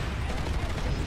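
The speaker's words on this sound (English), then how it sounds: "Oh, friendly BR4 grenade." A grenade explodes in the video game Planetside 2 amid dense, rumbling battle noise, a heavy low boom blending into continuous combat sounds, with a voice faintly present.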